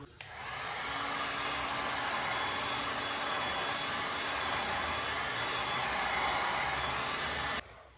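A heat gun warms a car fender or quarter panel while rolling the fenders, blowing with a loud, steady, close whooshing roar that runs almost the whole time before cutting off abruptly near the end.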